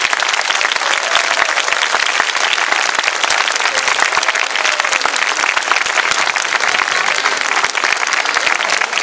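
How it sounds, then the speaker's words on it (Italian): Sustained audience applause at an end-of-year school concert, a dense steady wash of many hands clapping loudly throughout without pause. "Quindi vi pregherei di fare altri 2 applausi."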